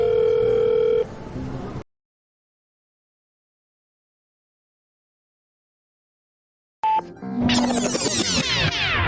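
Phone call ringing tone from a mobile handset: a steady tone that cuts off into a long silence, then a burst of tones and beeps returns near the end.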